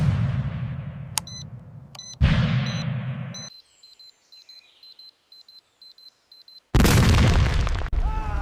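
Loud explosive boom bursts in a sci-fi scene, with sharp electronic beeps and a high tonal alert sequence between heavy crashing bursts, a quiet gap, then another roaring blast at the end.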